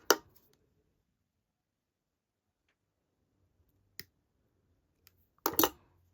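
A few sharp, isolated snips of thin jewelry wire being cut while making wire and bead earrings with 6/0 seed beads, one crisp click near the start, another around four seconds, then a louder double snip near the end, close and alone in quiet.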